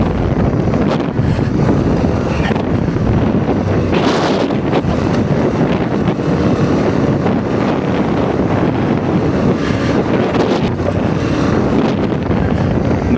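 A Yamaha Tenere 700 adventure motorcycle on Tusk 2 Track tires rides steadily through sand, its engine a continuous loud drone heavily buffeted by wind rushing over the microphone.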